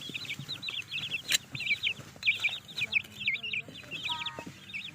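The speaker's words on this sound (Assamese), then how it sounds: "পোকবোৰ খাই দিছে কুকুৰা পোৱালিকেইটাই" Chicks cluck and peep in steady, overlapping chirps while pecking insects around the roots of a backyard plant being fertilized, near and clear with soft rustling beneath.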